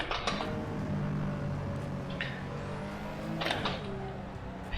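A racing car engine in Assetto Corsa drones and revs with shifting pitch, joined by brief tire noise, fairly faint and steady over several seconds.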